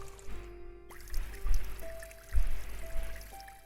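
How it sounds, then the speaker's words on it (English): Babbling-brook ambient water loop in the game Dreams: a low, continuous burble of flowing water with a few soft plops and gurgles rising out of it. "Or the babbling brook."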